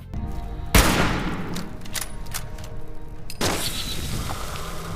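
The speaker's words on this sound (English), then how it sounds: "look at how long it takes from me shooting this figure to it reacting to it" Gunfire in the game Fallout 76 at a figure: a heavy booming shot, then a rattle of scattered cracks and a second blast, all loud over a constant background hum.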